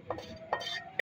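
Coal-smoked tikka dished out from a pan, quiet scraping and stirring with a couple of louder metal clinks and a final sharp knock before falling silent.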